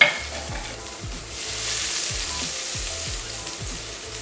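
Garlic sizzling in a pot over low heat for a braised chicken dish, a steady soft frying hiss with faint stirring scrapes, close and continuous without talk.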